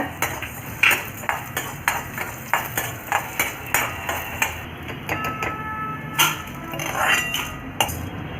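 Sharp metallic clinks and scrapes as a utensil stirs urad dal roasting in a little oil in a kadai, irregular taps and rattles close by, no voices.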